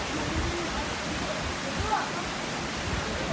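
Kothapalli waterfall near Paderu roars as a steady, dense rush of falling water, loud and continuous throughout, with faint voices in the background.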